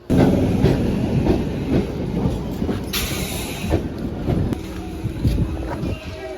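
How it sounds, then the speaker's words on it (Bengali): A passenger train running at a station in the early morning, with loud continuous rumble and rhythmic clacking of the cars throughout, wind buffeting the microphone and faint voices in the background. "তো ট্রেন চলে এসছে"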